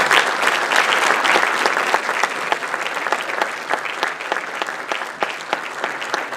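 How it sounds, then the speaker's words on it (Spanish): An audience at a technical session on changes to seismic design standards gives the panel a loud, sustained round of applause, many hands clapping densely from start to finish. "despedir a los integrantes de la mesa de las normas técnicas para diseño por sismo con un fuerte aplauso"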